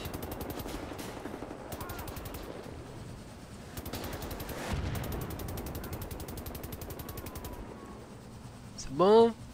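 Rapid mechanical clicking and ratcheting from weapon reloading in Wolfenstein: The New Order, repeating in bursts over a steady din of game noise, ending with a brief louder whoosh.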